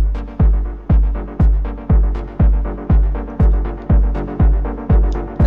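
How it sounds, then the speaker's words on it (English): A dub techno chord stab repeats about ten times in steady rhythm, each hit decaying quickly into a wide ping pong delay tail that bounces from side to side, loud and alone with no voices. "you'll get a really wide, longer delay, ping pong delay, and it'll be really stereo"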